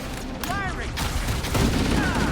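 Gunfire in the Halo video game, bursts of shots and booms with whooshing energy-weapon sweeps, heard under a player's excited voice.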